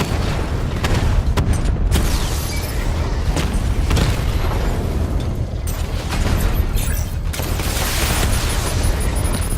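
Heavy booms and explosions roll on continuously in the Batman: Arkham Knight video game as a drone is hit in combat, loud and dense with no pause.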